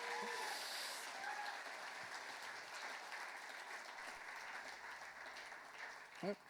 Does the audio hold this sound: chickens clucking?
no